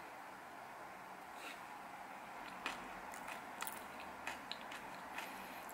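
Close, soft crunching bites and chewing of a crunchy chocolate cookie with strawberry milk cream filling over a quiet hiss, a few sharp crisp snaps spaced irregularly.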